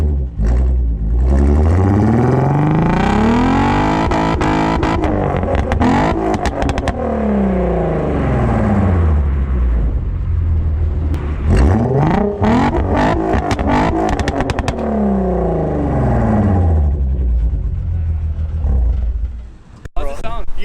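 Infiniti G35 with a Motordyne TDX2 Shockwave exhaust revs hard several times, loud and close, the engine note sweeping up and falling back repeatedly with throaty roars between short idles.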